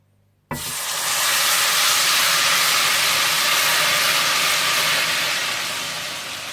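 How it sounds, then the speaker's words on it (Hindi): Milk-soaked semolina roasting with lightly caramelized sugar in a pan for makhadi halwa bursts into a loud, steady, close sizzle that starts abruptly and holds throughout, fading only slightly near the end. "और इस तरह से हिलाते जाएं और भूनते जाएं।"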